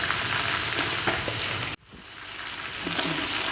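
Whole cloves, black cardamom, cinnamon sticks and black peppercorns crackle and sizzle in hot oil for chicken pulao, a steady close frying hiss that cuts off abruptly midway, then resumes more quietly.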